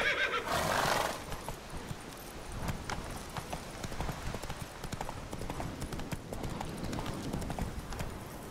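Roach, the horse in The Witcher 3, gallops in steady clip-clop hoofbeats with a whinny near the start, the rhythm running continuously and fairly close throughout.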